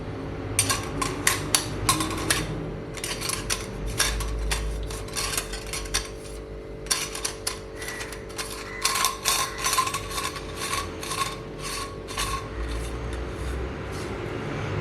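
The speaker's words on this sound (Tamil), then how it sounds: "முறுக்கு அச்சு எடுத்துட்டோம்." A metal murukku press being handled and assembled, with irregular clusters of sharp metallic clicks and scraping rattles, close and fairly quiet, broken by brief pauses and over a steady low hum.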